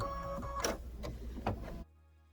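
Embroidery machine stitching a quilting folio project, a steady mechanical whir with rhythmic needle clatter and a few sharper ticks, close and moderately loud, stopping abruptly after nearly two seconds.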